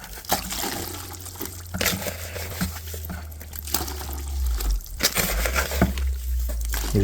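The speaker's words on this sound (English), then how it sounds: "If you pour it in, not too fast, it'll get all clumpy." Homemade cement casting mix poured slowly into a container, with soft trickling and intermittent pattering, plus sharp knocks and a low rumbling hum throughout, close by.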